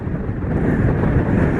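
Strong wind buffeting an outdoor microphone at a henge, a steady loud roar with gusting rumble throughout and no other sounds.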